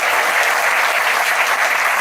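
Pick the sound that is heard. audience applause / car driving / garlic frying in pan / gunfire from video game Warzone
audience applause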